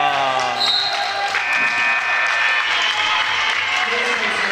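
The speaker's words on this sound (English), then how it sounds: "the student section here, a good crowd on the Raiders side" Students cheer and clap from the stands at a high school boys basketball game between Lebanon and Kearsarge, a steady broad crowd roar with a ball bouncing on the court and a commentator talking over it.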